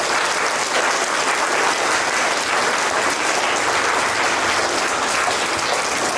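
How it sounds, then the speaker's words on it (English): Dense, steady applause from a school assembly audience at St. Joseph's College, Nainital, cheering students, a loud continuous wash of clapping that holds evenly from start to finish. "So once again, give these boys a big clap."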